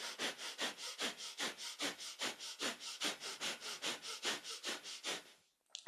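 Rapid, rhythmic nasal breathing during a kundalini pranayama breath exercise: about two dozen quick, even sniffing pulses in steady succession, close and fairly soft, with no talking, ending in a brief pause.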